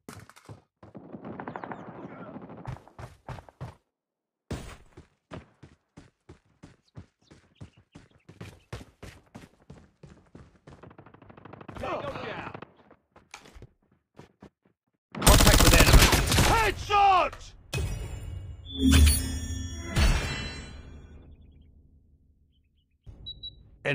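Gunfire in Call of Duty Mobile, with long runs of sharp, evenly spaced single shots separated by pauses, then a loud, dense burst of blasts and crackling near the end.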